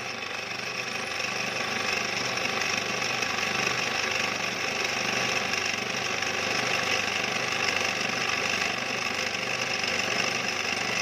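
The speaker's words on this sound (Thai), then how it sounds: "ก็เจาะยาวเลยนะครับ เจาะลึกลงไปเลยสักนิ้วนึงนะครับ" A power drill bores steadily and deep into the cylinder head of a Honda Wave 125 during thread repair, a continuous loud whine with grinding undertone, unbroken throughout and close by.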